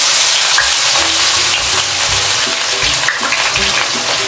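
Chopped onion dropped into a cup of well-heated oil for egg masala curry, a loud, dense sizzle that stays strong throughout with faint stirring knocks beneath.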